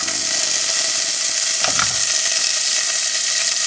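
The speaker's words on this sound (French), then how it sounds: "on va faire revenir l'ail, le gingembre et l'oignon avec de badiane" Garlic, ginger and onion with star anise fry in a spoonful of oil, producing a loud, constant sizzling hiss with a brief burst of stirring in the middle.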